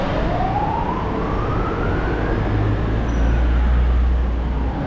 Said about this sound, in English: The sirens and the traffic.